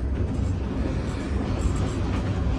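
Inside the moving Rangpur Express train, a steady low rumble of the carriage rolling along the track, heard close and continuous with no talk.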